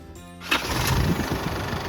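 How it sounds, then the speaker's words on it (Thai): A 2012 Isuzu D-Max diesel engine cranks briefly and catches, then settles into a close, rough idle with an even rumbling chug. "สตาร์ทเครื่องยนต์นะครับ"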